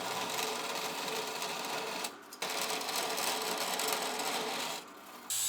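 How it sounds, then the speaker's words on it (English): A saw with a bimetal blade roughs out stainless steel end caps in a steady, buzzing cut that is broken by two brief pauses. "First step is to rough out the shape on the saw using the bimetal blade."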